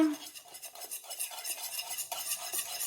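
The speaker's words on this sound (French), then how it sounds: "Je mélange." A spoon scrapes and swirls softly through thickened cream with butter in a pan, a quiet, continuous stirring close by.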